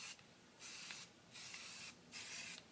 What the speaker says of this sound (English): So I'm going to do a little spray test on the t-shirt.